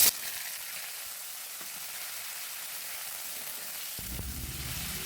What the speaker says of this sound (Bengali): এবার এই যে কেটে রাখা কচুগুলো আমি এর মধ্যে হালকা করে একটু ভেজে নিচ্ছি